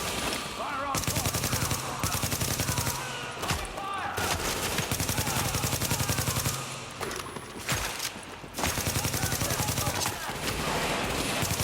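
Sustained automatic gunfire in Tom Clancy's The Division, long dense bursts broken by brief gaps, loud and close, with voices faintly underneath.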